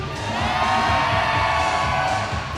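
Crowd at a roller derby bout cheering and whooping, a loud, sustained wash of many voices filling the venue throughout.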